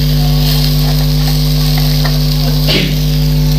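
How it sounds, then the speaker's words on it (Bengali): Raw peas stir-fried in a cooked spice masala for ghugni, a loud continuous sizzle with stirring scrapes over a steady low hum. "এইবার আমি কাঁচা মটরটা দিয়ে ভালো করে কষিয়ে নেব।"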